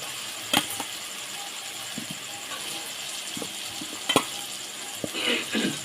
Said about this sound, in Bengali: আলুগুলো দিয়ে একটু ভালো করে কষিয়ে নেব।